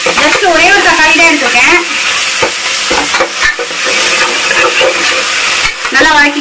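Chili powder sautéing in a home kitchen pan, a continuous loud sizzle with stirring scrapes while someone talks over it.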